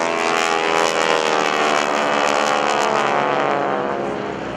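Propeller spotter planes flying as forward air controllers pass overhead at an airshow, a loud, steady droning engine note with wavering harmonics that holds throughout and eases slightly at the end.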